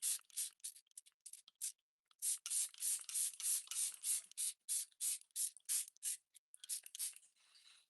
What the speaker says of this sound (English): might as well start spraying myself. Just protect the hair because this has alcohol in it.